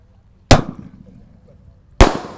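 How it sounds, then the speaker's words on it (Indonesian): Two sharp, loud bangs from a Gatot Kaca firecracker, one bursting low and one high, spaced about one and a half seconds apart, each with a short rumbling tail and no voices. "Lanjut ini ada mercon Gatot kaca. Ini meledosnya di bawah dan di atas."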